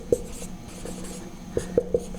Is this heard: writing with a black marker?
yes